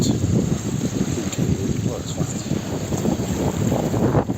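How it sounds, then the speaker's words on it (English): Strong wind blowing outdoors beside a lake on an autumn day, a loud continuous buffeting roar with gusty low rumble across the microphone. "This wind isn't abating at all."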